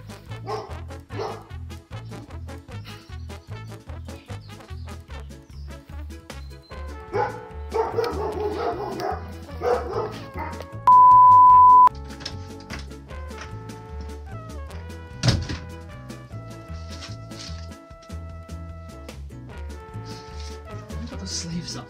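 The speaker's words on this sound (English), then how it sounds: "stupid dogs barking." Several dogs bark repeatedly in quick, uneven bursts, nearby and fairly loud, with occasional yips mixed in.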